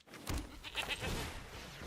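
A goat bleats in the card game MTG Arena, a short wavering cry at moderate level over quiet game background.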